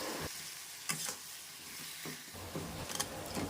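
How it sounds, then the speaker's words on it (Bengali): Sugar being stirred into tomato chutney in a hot pan, a spoon scraping in repeated strokes over a constant soft sizzle, close and alone. "চিনি দিয়ে এটাকে ভালোভাবে নেড়ে চেড়ে নেব।"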